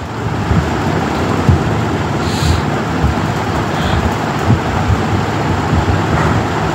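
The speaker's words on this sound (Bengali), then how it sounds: "ফুলকপিগুলো একদম ভালোভাবে লাল লাল করে ভাজা না হওয়া পর্যন্ত এগুলোকে একদম সুন্দর করে ভেজে নিতে হবে।" Cauliflower florets deep-frying in hot oil give off a loud, dense, continuous sizzle and crackle up close, with no pauses.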